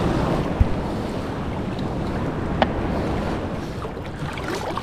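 Rough sea waves slapping around a small fishing boat in windy conditions, a continuous wash of water and wind buffeting the microphone, with a couple of brief knocks against the hull.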